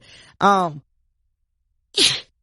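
A sharp, voiced sneeze bursts out close up, followed after a pause by a second short, breathy sneeze-like burst.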